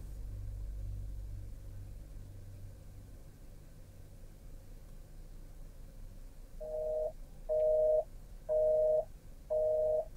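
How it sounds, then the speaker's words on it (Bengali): Busy tone from a phone call that fails to connect: four evenly spaced, clear beeps near the end, over a low background rumble like passing traffic. "মায়ের ফোন তো লাগছেই না"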